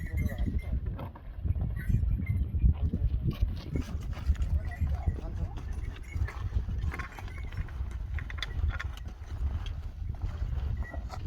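Horse hooves clip-clopping steadily along a Himalayan trekking trail to Everest Base Camp, a continuous close rhythm of hoof strikes over wind, with people talking at times.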